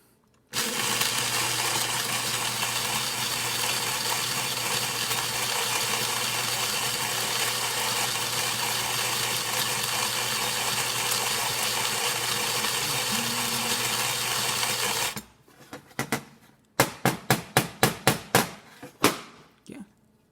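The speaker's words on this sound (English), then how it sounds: "now the grinder is working perfectly fine" A Zaconii grinder motor runs with a loud, steady whir for about fifteen seconds after a blade replacement, then stops, followed by a series of short, sharp bursts.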